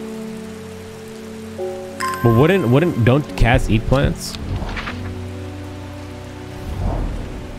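Rain patters steadily in the video game Strange Horticulture beneath a soft, low ambient hum, with a person talking briefly over it in the middle.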